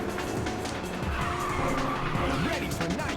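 Tires screech and squeal steadily while a car drifts in the PSP game Ridge Racer (2004), with race engine noise running underneath and moderate loudness throughout, without pause.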